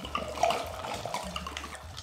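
Liquor poured from a bottle into a cantarito of tequila mixed with vodka, a soft continuous liquid pour with light splashing that stays fairly quiet throughout.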